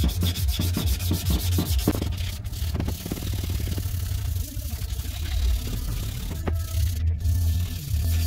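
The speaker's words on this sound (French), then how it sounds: "Si on fait une restauration, quoi que ce soit, à un moment ou à un autre, il va falloir poncer." Sanding a Leovinci exhaust pipe from a Peugeot 103 moped during restoration, a steady abrasive rubbing that runs nearly unbroken and close up, with a low rumbling hum underneath and no talking.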